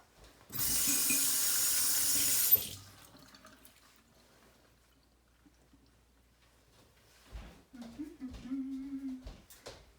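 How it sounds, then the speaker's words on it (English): A kitchen tap gushes for about two seconds as hands are washed, then shuts off into near silence, followed by a person speaking. "I'm just going to give my little hands a wash"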